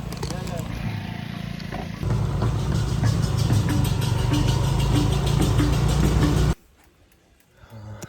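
A motorcycle engine revs up loudly and steadily as the rider accelerates on a road at 1,100 metres altitude in Bali, droning close by, then cuts off abruptly near the end, leaving quiet with faint rustling.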